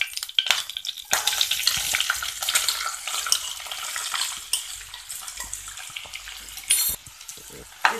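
Chopped onions dropped into a pan of hot oil with cumin seeds, giving a sizzling, crackling fry with scrapes and clatters, louder bursts near the start and end, no talking.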